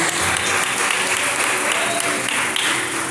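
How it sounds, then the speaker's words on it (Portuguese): A church congregation claps together during a Portuguese-language evening service, dense and loud applause filling the whole short stretch without letup. "glorificando o Senhor com palmas de vitória esta noite"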